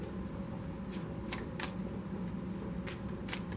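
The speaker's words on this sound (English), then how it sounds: "let me just get some more cards." Tarot cards shuffled and drawn: a handful of short, crisp card riffles and snaps spaced irregularly over a steady low room hum, with no talking.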